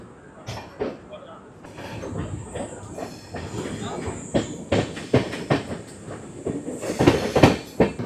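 Kumbh Express train pulling out of Maharaja Bijlipasi station, heard from on board as a steady rumble with rhythmic wheel clatter and a faint hiss, under intermittent nearby voices.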